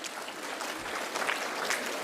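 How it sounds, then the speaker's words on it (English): Audience applause at a Teachers Day gathering, a steady wash of clapping from a crowd that holds an even level throughout. "let's give a round of applause to each other"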